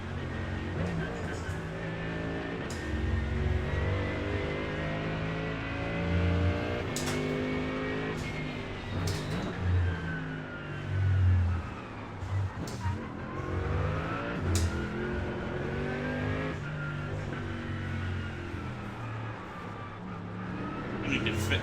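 Race car engine in the iRacing simulator held at full throttle, a loud continuous roar with rising and falling pitch sweeps as gears change, tire noise mixed in, with brief speech over it.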